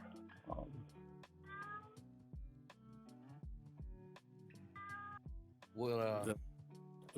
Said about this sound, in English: whose little cat is talking?